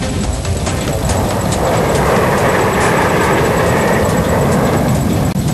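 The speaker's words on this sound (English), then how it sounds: "bringing up the rear of the package, the MiG-29 by Rana of 28 Squadron, with him Dwivedi and Ava in MiG-21 Bison 4 Squadron" MiG-29 and MiG-21 Bison fighter jets of the Indian Air Force fly overhead in a loud, continuous engine roar that stays dense and unbroken throughout.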